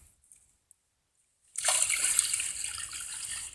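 Water splashes and trickles steadily as it is poured into the casing of a civil-defence rescue team's water pump, beginning abruptly after a near-silent moment and continuing loud and close to the end.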